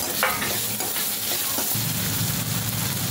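Tomato and dry spices (salt, turmeric, chili, coriander powder) sizzle in a pan as they are stirred, a steady close frying hiss broken by soft scraping strokes, with no voices.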